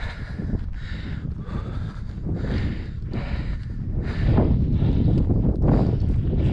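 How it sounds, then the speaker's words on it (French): Cold wind gusts on a mountain hike to Pic Néoulous in the Pyrénées-Orientales, a steady close buffeting roar against the microphone that swells louder toward the end. "Il y a du vent quand même. Le vent il est froid."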